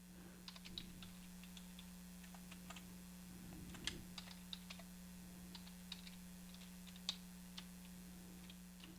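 Quiet keystrokes tap out a password on a computer keyboard, a loose run of light clicks at an uneven pace over a steady electrical hum.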